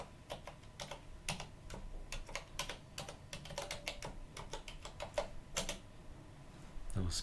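Someone types on a computer keyboard in a quick, uneven run of sharp clacks, close and clear, with a brief pause, and a person speaks over part of it.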